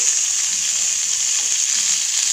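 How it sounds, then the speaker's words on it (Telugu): Onions and tomatoes frying in a pan for ginger chutney, a steady, close, bright sizzle that holds evenly throughout with no talking. "ఇందులోకి ఎర్రగడ్డ టమాటాలు రెండు వేసుకొని వేయించుకోవాలి మెత్తగా అయ్యేంత వరకు"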